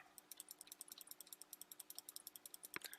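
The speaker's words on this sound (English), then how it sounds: "Apologize if you're hearing all my mouse clicking." Rapid, steady computer mouse clicking while someone plays a woodcutting tournament game, a quick run of crisp, quiet clicks at an even rhythm, close up and alone.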